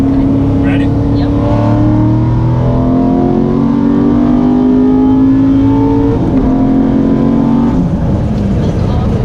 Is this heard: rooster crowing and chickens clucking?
no